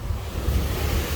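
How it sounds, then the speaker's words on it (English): Ocean waves surge and crash against a seaside promenade wall in Las Americas, Tenerife, a steady loud wash of surf mixed with gusty wind buffeting the microphone. "Oh, I told you about the waves."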